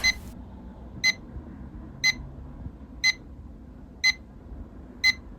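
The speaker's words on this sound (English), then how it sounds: "You turn off your alarm" An electronic alarm clock beeps in short bursts, six times at an even one-second pace, over a quiet low room hum.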